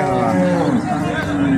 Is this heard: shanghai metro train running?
no